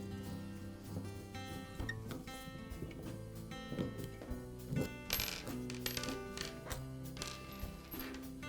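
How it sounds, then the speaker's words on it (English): Small metallic clicks and light clinks of screws being backed out and set down while an Echo blower carburetor is taken apart near the primer bulb, faint, close and irregular with no talk. "I'll start by removing the 4 screws near the primer bulb."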